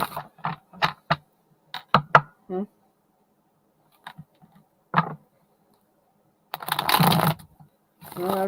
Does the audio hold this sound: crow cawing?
no